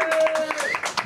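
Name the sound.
comedy audience applause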